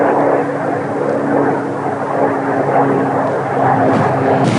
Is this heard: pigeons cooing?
no